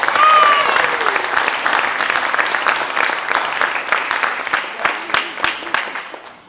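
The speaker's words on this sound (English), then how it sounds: "Let's give a round of applause to our distinct panelists." An audience at a Micronesian community celebration applauds panelists, loud dense clapping that swells at first and then thins into scattered, separate claps before fading out.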